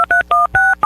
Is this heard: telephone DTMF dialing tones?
yes